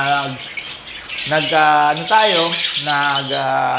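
Green-cheeked conures in a breeding setup give loud, harsh squawks and raspy calls in several bursts, close by and filling the whole stretch with little pause.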